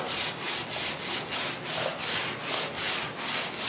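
Rhythmic back-and-forth scrubbing of chemical stripper off the wooden bottom of a 1956 Chris Craft Capri boat, steady strokes about twice a second, close and moderately loud with no talking.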